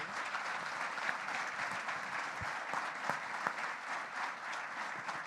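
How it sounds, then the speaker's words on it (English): An audience at a conference session applauds its founders, a steady, fairly distant wash of clapping that holds evenly for the whole stretch. "let's just take a moment and give a hand clap for all of our founders and near founders"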